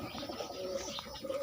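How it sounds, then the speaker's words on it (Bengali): A domestic pigeon in a fancy-breed loft gives a short, soft coo close by, a brief throaty warble with faint background noise. "আয় আয় আয় আয় আয়, একটা দেখুন পায়রা।"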